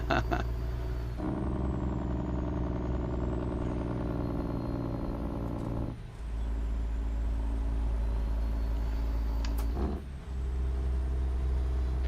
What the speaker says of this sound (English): The truck is not too loud, is it?